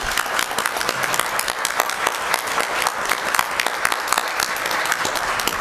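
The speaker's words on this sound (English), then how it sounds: "join me in a warm round of applause for her" An audience at a community compact signing with Massachusetts Lt. Governor Karyn Polito in Auburn gives a warm round of applause, a dense, even patter of many hands heard from across the room with no talking over it.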